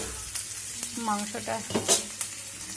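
Meat marinated in yogurt, salt, turmeric and green chili drops into hot cooked masala in a pan, with a sizzling hiss, a few clanks of stirring, and a brief voice in the background.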